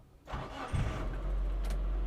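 A 2016 Suzuki Futura Carry pickup cranks and fires up nearby, then settles into a steady, rumbling idle.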